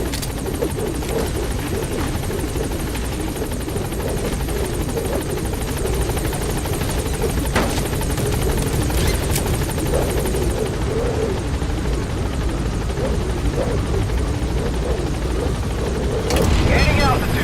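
Pequod, the transport helicopter in Metal Gear Solid V, climbing away with a loud, steady rotor chop and turbine whine that holds throughout, a short radio-style voice line laid over it.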